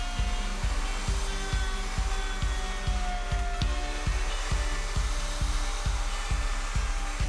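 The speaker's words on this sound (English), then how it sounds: "I then flipped it over and switched to a bottom bearing flush trim bit to do the rest." A router fitted with a bottom-bearing flush trim bit trims the edge of a wooden workpiece, a steady high motor whine pulsing in even, regular strokes, close and loud with no talk.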